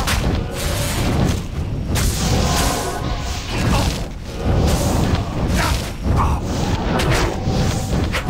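Fire spell explosions from Armageddon in Diablo 2, a dense, continuous barrage of loud booms and whooshing impacts rolling one after another, with no talking.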